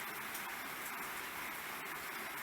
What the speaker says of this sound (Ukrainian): А зараз йде такий маленький, густенький, легенький дощик.